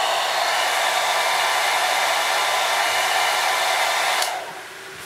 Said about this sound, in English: blow dry it real fast